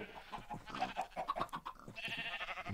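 A cow in the video game Minecraft gives a few short, wavering moo calls in quick succession, fairly faint and heard alone without talk.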